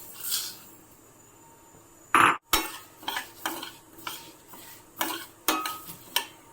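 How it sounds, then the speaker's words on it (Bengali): Fenugreek seeds and dried red chillies dry-fry in a pan over a medium flame for an Indian plum pickle. A spoon knocks and scrapes against the metal in a series of irregular clinks over a faint background hiss. "মশলাগুলো আমি ভাজতে দিয়ে দিচ্ছি।"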